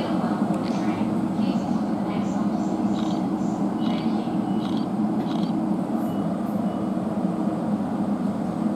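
A South Western Railway Class 450 electric train, unit 450029, pulls out of Fareham station toward Southampton Central in hot, humid weather. A steady, continuous rumble with faint higher whine runs throughout, fairly loud and unchanging.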